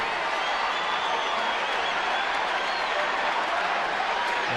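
A baseball crowd at a Giants game roars and applauds a home run, a dense, sustained wash of cheering and clapping filling the stadium at steady volume.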